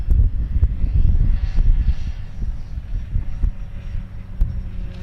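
An FMS Super EZ Trainer RC airplane runs at full throttle into the wind, its electric motor a steady droning hum with low throbbing wind buffeting, continuous and fairly close throughout.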